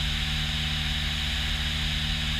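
Steady, loud drone of a small propeller airplane from inside the cockpit while flying the downwind leg of a landing pattern, an even engine hum with a hissing wash of air and no speech.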